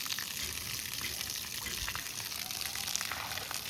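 Water being filled into containers at a Marathi household, a steady rushing gush of liquid that runs continuously and evenly throughout at moderate loudness.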